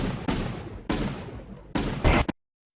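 Explosion sound effects in a sound-design reel: four loud booming blasts, each cutting in sharply and decaying into a rumbling tail, the last one brief and clipped before silence.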